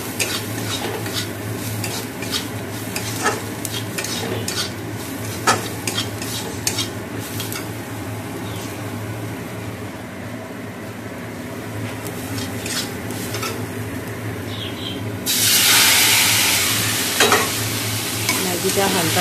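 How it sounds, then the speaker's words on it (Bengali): Long beans and onion sizzle steadily in a frying pan, with a continuous hiss and occasional scrapes and clinks of a stirring utensil, growing louder and brighter near the end. "এদিকে বরবটি আর পেঁয়াজটা ভেজে নিচ্ছি"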